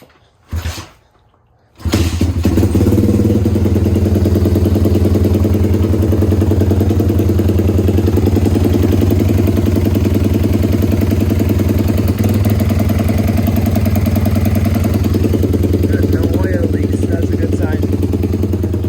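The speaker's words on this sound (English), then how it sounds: "All right, I'm gonna try to start her up." A Pitster Pro X4 190cc pit bike engine cranks with a short burst, catches around two seconds in, and then settles into a loud, steady, close-up idle that runs to the end, with no talking.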